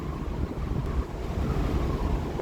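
Sea waves washing onto the shore, a steady rushing surf mixed with strong wind buffeting the microphone, loud and continuous with no voices.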